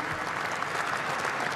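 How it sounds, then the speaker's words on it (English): Applause from delegates at the FIFA Congress after the 2026 World Cup host vote, a brief, steady patter of clapping from a large hall with no cheering. "Listen to this ovation. A smattering of applause."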